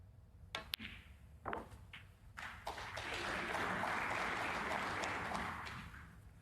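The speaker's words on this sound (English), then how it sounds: "it's a smattering of applause for almost every shot" Light, scattered applause from a snooker crowd at the German Masters semi-final, a few isolated claps at first, then building into a brief, steady patter of clapping before fading.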